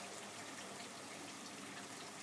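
Half a cup of water poured into a pan of cooking ground chicken keema makes a faint, steady rushing wash of liquid that fills the whole short moment without pause or voices.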